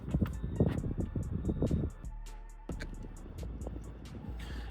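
A Nissan Micra car engine runs, drops off, then settles into a steady idle-like hum as the car moves away, close and moderately quiet, with a few clicks and knocks on top.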